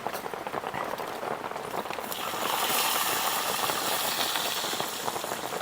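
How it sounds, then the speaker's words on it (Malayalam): Mustard and fenugreek seeds splutter in hot coconut oil, a steady, fairly quiet hiss with dense crackling pops that grows a little stronger partway through. "വെളിച്ചെണ്ണ ചൂടായ ശേഷം കടുകും ഉലുവയും പൊട്ടിച്ചെടുക്കുക"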